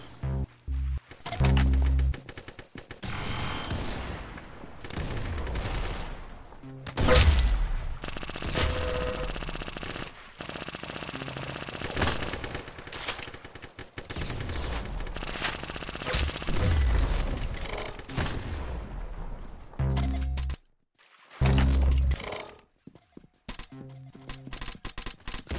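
Gunfire in the Roblox video game, with rapid bursts of automatic shots and scattered single cracks that repeat in loud clusters, broken by brief pauses, throughout the stretch.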